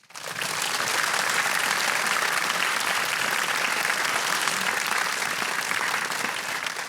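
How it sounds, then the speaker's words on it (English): An audience at the Shaw Prize lecture applauds the two presenters, with steady, dense, continuous clapping that fills the hall at an even level from start to end. "may I invite all of you to give the two presenters a big applause"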